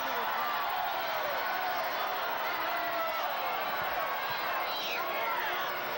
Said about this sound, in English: Big crowd on hand tonight, and they are really into the action.